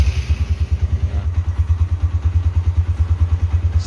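A Verza 150 motorcycle engine idles loud and close with a steady, even putter of rapid thumping pulses and light mechanical clatter, a brief start-up rasp at the beginning, and no talking.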